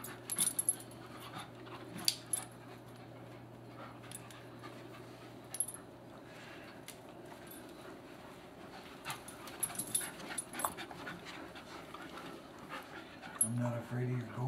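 Dogs, including a golden retriever, pant quietly in quick breathy rhythms with occasional soft whimpers, faint under intermittent nearby talking.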